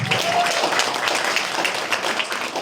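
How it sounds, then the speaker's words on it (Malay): An audience at a Nutrilite presentation claps together in a dense, sustained burst of applause, filling the room with a steady patter of many hands. "Sila beri tepukan."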